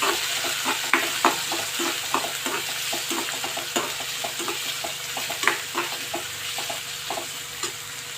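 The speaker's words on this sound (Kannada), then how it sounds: "ಇಟ್ಕೊಂಡು ಇದನ್ನು ಫ್ರೈ ಮಾಡ್ತೇವೆ" Something fries in a pan while being stirred, a continuous sizzle broken by regular scraping taps of a utensil against the pan.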